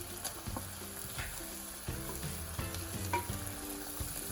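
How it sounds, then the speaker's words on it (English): Julienned carrots and green beans stir-fry over high heat with a soft, steady sizzle and occasional light stirring clicks, faint beneath a low, broken tonal murmur. "We are going to stir this very nicely up on a very high heat"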